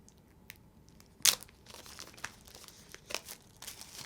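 Plastic wrapping on a pack of game cards crinkles and tears open close up, with one sharp rip and then scattered quieter crackles.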